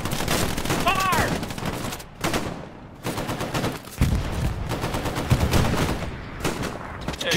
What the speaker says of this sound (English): Start shooting at them. They're all down in the town. All here. Start firing.